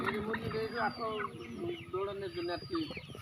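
Sonali breed chickens cluck on a farm, several birds calling in short, overlapping bursts close by while people talk over them.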